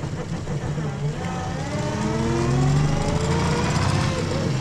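A vintage Daimler landaulet with a sleeve-valve engine drives along a road, its engine droning steadily and shifting pitch as gears change, with a voice speaking over the running motor.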